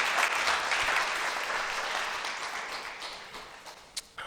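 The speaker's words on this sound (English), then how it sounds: "Give her a round of applause." An audience claps loudly at a business presentation event, dense applause starting strong and fading gradually over a few seconds, with a sharp single clap near the end.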